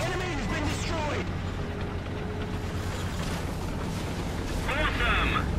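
A destroyed tank exploding in a tank combat video game, a heavy rumbling blast under game noise, with a voice speaking over it.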